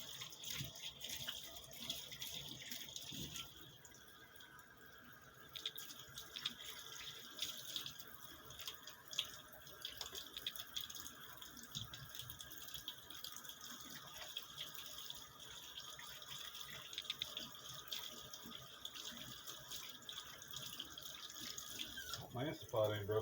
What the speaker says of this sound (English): I'm gonna wash my hand off real quick.